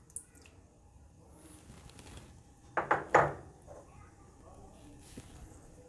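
Two eggs cracked into coconut cake batter for Jamaican toto cake: a few sharp clicks and wet taps close by in a quiet kitchen, clustered together in a short burst.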